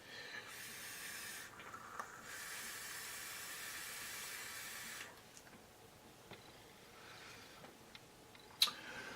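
Faint, breathy hiss of e-cigarette vapor being exhaled, a steady soft rush lasting several seconds before fading to a quieter background with small clicks.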